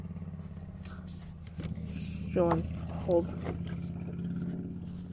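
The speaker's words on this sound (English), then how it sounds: "There are motorcycle noises." A motorcycle passes outside a basement, its low, steady engine drone running beneath nearby speech and the clatter of hands-on work.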